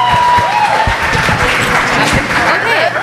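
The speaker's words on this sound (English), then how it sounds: "So everybody give it up for Ellie." A live audience at a comedy dating show claps loudly and steadily for a few seconds, a dense close burst of applause with no talk over it.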